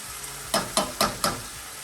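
Canned diced tomatoes stirred in a sizzling pan for chicken riggies, with a soft steady sizzle under four quick, evenly spaced scraping knocks of a spoon against the pan, close and unaccompanied by talk.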